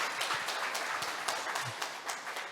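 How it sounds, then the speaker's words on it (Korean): Faint, sparse clapping from a small audience follows a lecture at a Korean policy forum, with distant scattered hand claps against a quiet room. "오늘 이렇게 귀한 강연 해주신 이경태 원장님께 다시 한번 큰 박수 부탁드리겠습니다."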